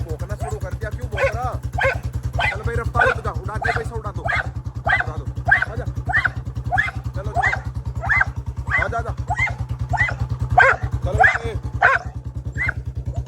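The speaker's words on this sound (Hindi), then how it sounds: "देखो भौंकना शुरू कर दिया, क्यों भौंक रहा?" Show-quality German Shepherd dog barking in a steady string of sharp barks, near and loud over a constant low engine hum, with people talking in Hindi.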